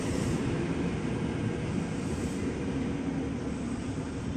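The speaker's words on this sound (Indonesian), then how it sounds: "Oke, metro seri 6000, 10 kereta." A ten-car Metro 6000 series commuter train runs at Manggarai station with a steady, loud low rumble and rolling noise that continues throughout.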